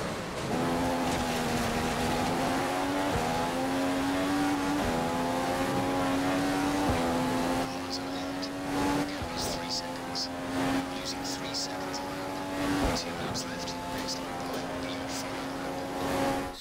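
A Manor Marussia Formula 1 car in the F1 2015 video game, on the Italy circuit, whines steadily through its upshifts at race speed, the engine tone rising and dropping with each gear change while a voice talks over it throughout.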